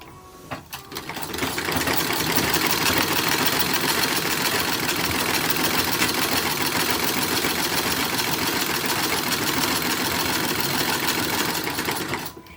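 A sewing machine stitches the side seams of a skirt for a WWI Motor Corps uniform, a steady, fast mechanical whir running loud and continuous after a brief start, with no talking.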